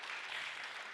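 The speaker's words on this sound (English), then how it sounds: "Big round of applause for that one." Audience at a ladies' day celebration claps briefly, a short, soft, even wash of applause heard from a little distance.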